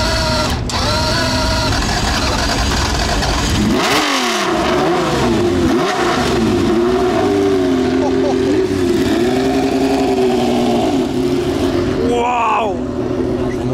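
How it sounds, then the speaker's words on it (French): Formula 1 cars, one a V12 formerly driven by Jacky Ickx, run past at the Le Vigeant circuit; loud engine tones rise and fall repeatedly as the cars pass, with people talking over it. "Tu vois des F1 se balader comme ça au Vigeant, c'est magnifique."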